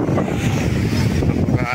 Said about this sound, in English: Napaka-windy yun dito.